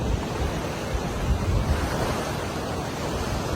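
Ocean waves roll and wash steadily onto a beach in Bali where surfers are out, a continuous near surf rush with light wind noise and no voices.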